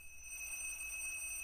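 Electronic alarm clock in the indie horror game Bequest rings with a steady high-pitched continuous tone, faint and thin over quiet background, no speech.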